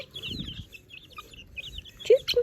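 Purebred chickens clucking nearby, a few soft calls scattered through the clip, then a sharper, louder cluck near the end, with faint outdoor background.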